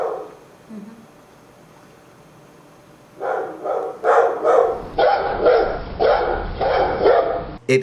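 Dogs bark in a steady run of sharp, loud barks after a quiet start, several in quick succession.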